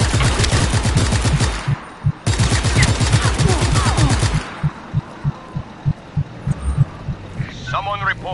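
Gunfire in a PS4 video game: sustained rapid automatic bursts hammer loudly for several seconds, broken by a brief gap, then give way to slower single thumping shots, with a voice speaking briefly at the end.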